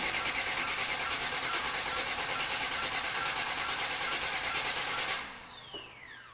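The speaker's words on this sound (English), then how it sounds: "I'm going to hit my starter for a few seconds. That'll get the oil circulating." A car's starter cranks steadily for about five seconds without firing to prime the oil, loud and close, then cuts off into a fading whine.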